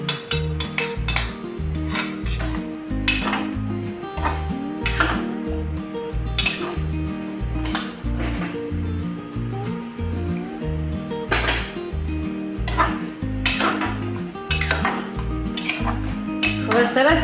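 Vegetable biryani in a pot, with soaked rice, hot water and spices, stirred by a metal spoon that clinks and scrapes against the sides in a steady repeating rhythm, close and clear over a constant tonal background.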